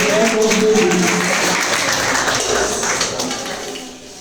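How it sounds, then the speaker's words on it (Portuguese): Congregation applauding during a worship service at an Assembleia de Deus church vigil in Boninal, a dense, steady wash of clapping that fills the whole stretch and fades slightly toward the end. "As palmas glorificam o nome do Senhor"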